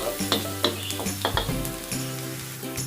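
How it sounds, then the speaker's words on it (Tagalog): Garlic stir frying in hot olive oil, a steady sizzle broken by several sharp scrapes and clinks of a utensil against the pan, close up with no speech. "So you have to stir fry your garlic until it is caramelized or brown."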